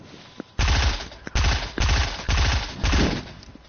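Loud bursts of gunfire in a multiplayer shooter video game, four or five heavy rapid-fire volleys in close succession with brief gaps between them, up close and without talk.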